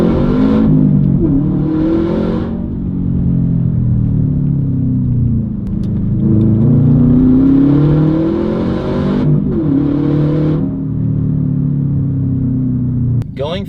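A stock Subaru WRX STi in sport mode revs hard through the gears, a loud rumbling engine climbing and dropping in pitch with shift breaks, heard from inside the car.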